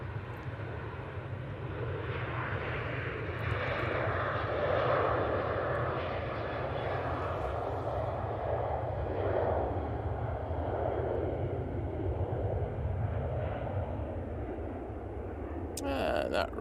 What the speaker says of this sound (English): And that Ryanair rotating now. Nice departure.